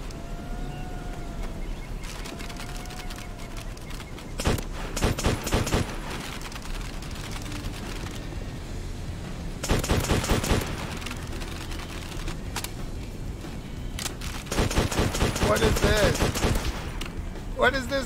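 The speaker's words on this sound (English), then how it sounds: "Shoot anything that moves." Bursts of rapid gunfire in a modded free-for-all video game match, clustering in loud volleys between quieter stretches of ambient game sound and distant shots.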